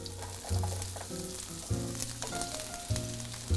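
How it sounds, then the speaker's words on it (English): Onions hitting a hot frying pan sizzle steadily, with a dense hiss and periodic thuds of stirring, close and moderately loud with no talk. "the pan's looking hot enough now. All right, put the onions on."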